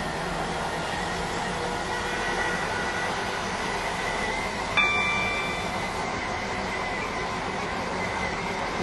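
A Stepford Connect train runs in the Roblox game SCR with a continuous rolling rail rumble. A brief metallic squeal comes partway through, and no one talks.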